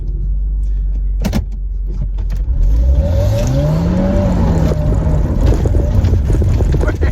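A car accelerates hard with traction control switched off, its engine rising in a revving sweep above loud wind rumble, close and sustained throughout.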